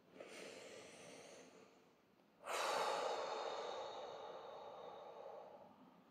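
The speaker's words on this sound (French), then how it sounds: "revenir tout doucement en prenant une profonde respiration" A slow, deep breath taken during a guided meditation, a soft airy inhale followed after a short pause by a longer, fuller exhale, close and quiet with no other sound.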